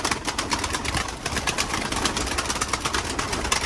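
A flock of loft pigeons let out on a humid, rainy day fills the air with steady overlapping cooing and occasional flapping, close and without voices.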